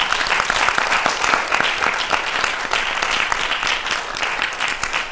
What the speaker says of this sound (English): she deserves first a big round of applause for that.